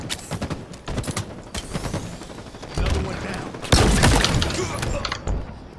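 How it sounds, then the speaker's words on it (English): A grenade in the Halo video game bursting amid rapid gunfire, with dense crackling shots and a heavier explosive rumble partway through, loud and chaotic, game voices faintly mixed in. "Grenade out."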